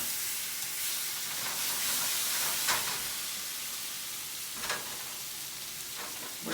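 Food sauteing in olive oil in a hot pan, a steady close sizzle and hiss with a few brief sharper crackles, no voices.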